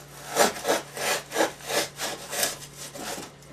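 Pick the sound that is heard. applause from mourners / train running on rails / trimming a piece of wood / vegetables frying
trimming a piece of wood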